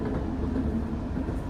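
A Rajdhani Express train on the Bangalore–Delhi line rumbles past a railway crossing near Chandrapur station, a steady, loud, close low roar with no break across the whole moment.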